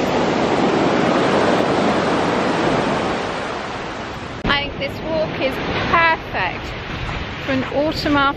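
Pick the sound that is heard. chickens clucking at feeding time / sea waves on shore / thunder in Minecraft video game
sea waves on shore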